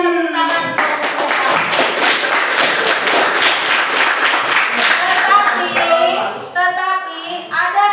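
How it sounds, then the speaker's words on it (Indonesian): A classroom of students applauds a winning student group: dense, rapid clapping from many hands lasts several seconds, loud and close, then thins out into a few scattered claps, with a voice speaking near the end. "Silakan berikan tepuk tangan."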